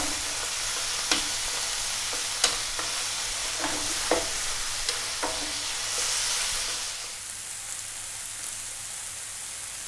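Chicken and mushrooms fry for fried rice in a pan, giving a steady close sizzle with occasional scrapes and clicks from stirring. The sizzle softens and thins toward the end.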